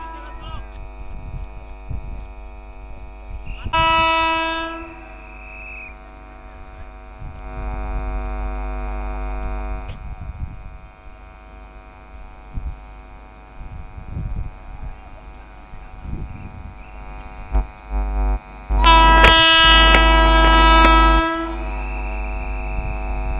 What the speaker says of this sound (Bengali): তো আমরা ট্রেনের আওয়াজ পাচ্ছি, ট্রেনের হরেনের আওয়াজ পাচ্ছি